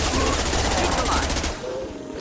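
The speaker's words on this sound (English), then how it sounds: "Stop shooting, Shepard." Rapid gunfire from a firefight in the game Mass Effect 2, a loud continuous burst of automatic shots for about a second and a half under game voices, then cutting off to quieter background.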